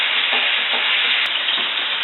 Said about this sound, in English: the water is just now starting to boil